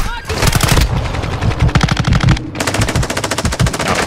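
An MPC submachine gun in Call of Duty DMZ rattles off loud, rapid bursts of automatic fire, close and repeated, with a short gap midway before another sustained burst.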